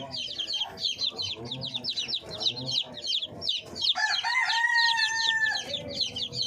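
A flock of chickens and newly hatched chicks make rapid, high peeping chirps throughout, with a louder, drawn-out fowl call partway through. Nearby clucking is mixed in.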